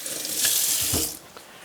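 Water from a kitchen bowl pours into a sink in one brief splashing gush that swells, peaks and trails off into a few last drips, close and fairly soft.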